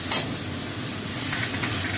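Chopped onion with ginger-garlic paste and dry chili powder sizzles in a hot pan, a steady frying hiss broken by a few stirring scrapes and clinks, no voices.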